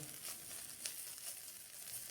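Faint, steady sizzle of ridge gourd frying with sugar and grated coconut, with light stirring scrapes over a low hiss and no voices.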